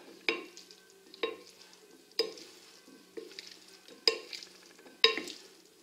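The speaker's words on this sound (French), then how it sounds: "Je rajoute mon jambon. Je vais mélanger gentiment tout ça." Pasta with ham being stirred in a pan: about six distinct scraping strokes of a utensil, each sharp onset trailing off, fairly close with soft sizzling in between and no talking.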